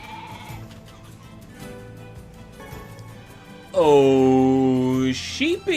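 A sheep bleats loudly and close in the video game NieR Replicant, one long wavering cry followed by a shorter second bleat, coming after a stretch of quieter game sounds.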